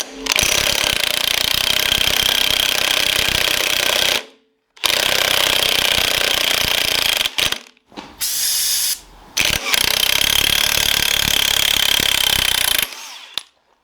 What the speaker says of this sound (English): I'm going to use a chrome socket on the impact gun